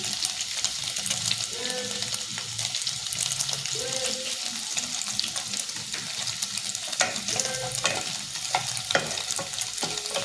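Paneer frying in a little oil with fenugreek, stirred in the pan, giving a soft steady sizzle broken by scraping stirring strokes, fairly quiet and close.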